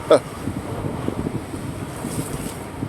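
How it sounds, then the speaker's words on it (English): Wind buffets the microphone at the shore of Dumaguete City, Negros Oriental, Philippines, with choppy ocean waves washing in a steady rumbling wash and one sharp splash near the start. "Look at those waves. It's choppy today"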